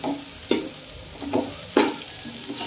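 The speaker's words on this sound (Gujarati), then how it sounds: "એટલે હવે આપણે મિક્સ કરી નાખીએ કોબીને પણ અને બધું અસલ પકાવી લઈએ" Cabbage and mixed vegetables are stir-fried for noodles, with a steady close sizzle and three sharp scraping stirs of a spatula against the pan.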